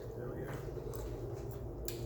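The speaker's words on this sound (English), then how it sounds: "Can you hear me crunch?" Someone crunches jerk okra fries, a few faint, brisk bites spread over two seconds against a steady low background hum.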